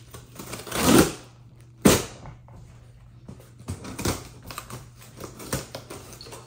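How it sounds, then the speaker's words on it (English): Car keys slicing through packing tape on a cardboard shipping box for a business tool kit, heard as a few close, scratchy tearing strokes with quieter rustling and scraping between them, and no talking. "I'm going to take my keys. Okay, I can go ahead and cut the tape just like this."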